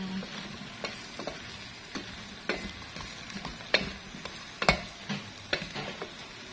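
Potatoes tumble into a pot and are stirred while cooking for chicken curry, giving a steady close sizzle broken by repeated sharp utensil scrapes and knocks against the pot, with no talking.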